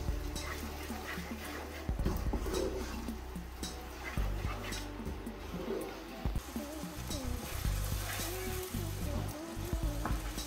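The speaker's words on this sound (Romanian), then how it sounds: "le mai lăsăm la călit 2-3 minute." Onion and bell pepper sautéing in a pan for a Romanian beef stew, a steady broadband sizzle with scattered clinks and scrapes over low background hum, no speech.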